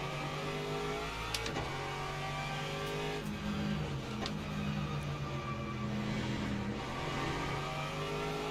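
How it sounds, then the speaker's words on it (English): A Ferrari GTE race car in a sim racing game at Sebring, its engine droning steadily at close range and shifting pitch as it passes, with the sound of other cars around it and no talk. "Here comes the Ferrari now."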